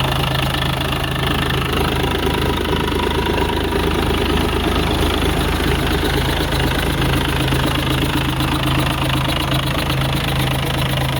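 Freshly overhauled engine running in a workshop, a loud continuous mechanical drone with a steady knocking throb, unbroken throughout and heard close with no talk.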